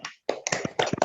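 Children in a classroom perform tepuk semangat, a rhythmic spirit clap: a short, quiet patterned run of taps and claps broken by a brief pause.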